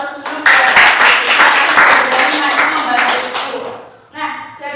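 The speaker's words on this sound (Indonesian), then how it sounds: "Yuk kita beri aplaus dulu" Classroom applause, a loud sustained burst of many hands clapping close by, fading out before a brief second round of claps.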